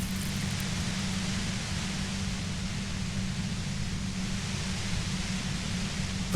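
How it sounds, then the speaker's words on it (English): A compressor gives off a loud, steady broadband hiss like white noise, constant and unbroken, with no voices. "The violent white noise becomes even more overwhelming closer to the compressor."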